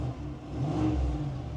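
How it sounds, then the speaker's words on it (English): A GMC AT4X pickup with active exhaust in sport mode revs briefly, a deep, muffled engine swell rising and easing back, moderately loud. "So in sport mode with the active exhaust just sounds louder."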